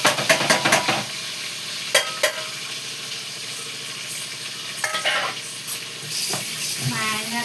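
Food frying and sizzling in oil in a pan, a steady hiss punctuated by clatters and stirring scrapes, with a voice briefly audible near the end.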